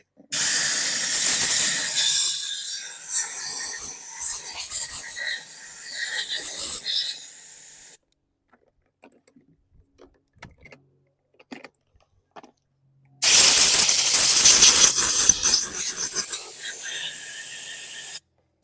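Compressed air blasts loudly onto a 2017 Bolens lawn mower during cleanup: a steady, harsh hiss lasting several seconds, a quiet pause with faint clicks, then a second strong burst of air.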